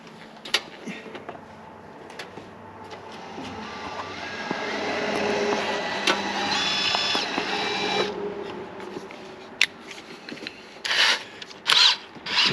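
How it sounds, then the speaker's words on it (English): A power drill whirs steadily for several seconds while drilling through a vehicle firewall, then stops, followed by scattered knocks and short bursts of tool noise. "So we're going to drill this now and get it started through there"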